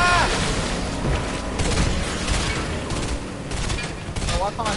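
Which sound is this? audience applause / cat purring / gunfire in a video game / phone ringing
gunfire in a video game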